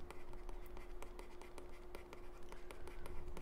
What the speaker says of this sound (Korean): 위에다가 한번 써볼게요